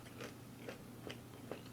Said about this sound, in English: Banana chips give it a crunch.